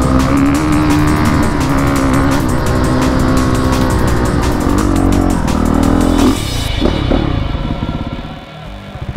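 A Honda CRF450RX dirt bike rides across open desert land in California, its engine loud and close with rising and falling revs before it cuts off near the end.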